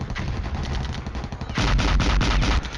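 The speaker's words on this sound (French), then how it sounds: "Oh, il les engage au canon en fait." Heavy cannon fire in the Cold War wargame Flashpoint Campaigns, with AMX vehicles and a Mi-24 in combat: rapid rattling bursts that swell into a loud, dense barrage of booming shots.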